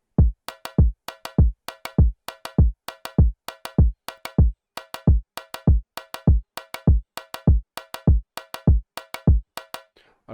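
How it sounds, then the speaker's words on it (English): Two layered conga drums play an afrobeats groove built in FL Studio, sharp close hand hits repeating in a quick, steady syncopated pattern throughout, loud and dry with no talking. "I layer it with another conga."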